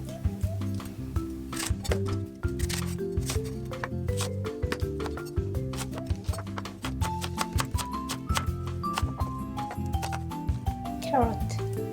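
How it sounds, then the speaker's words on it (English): A knife chops Japanese radish for pork miso soup in a series of quick, crisp cuts against a board, heard close up beneath steady background music. "Cut it. Japanese radish."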